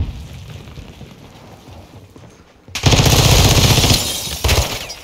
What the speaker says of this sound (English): It's got a auto fire.